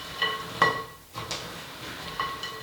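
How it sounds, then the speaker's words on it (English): Chocolate mini eggs and cream eggs stirred into a mixture in a bowl, with a few clinks and scrapes of a spoon against the bowl, spaced out and fairly quiet. "Mix this all together."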